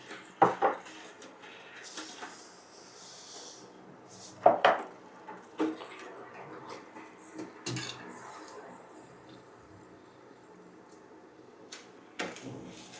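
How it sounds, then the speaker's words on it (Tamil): Tomato jam with sugar being stirred in a pot gives occasional metal scrapes and clanks of a spoon against the pot, spaced irregularly, over a quiet background. "இதை சர்க்கரை கம்பி பதம் வர்ற வரைக்கும் நல்லா கிண்டணும்."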